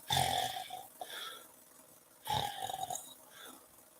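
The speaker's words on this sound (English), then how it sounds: "He's snoring." Two long, rasping snores, each a drawn-out rumbling breath followed by a softer tail, close and fairly loud.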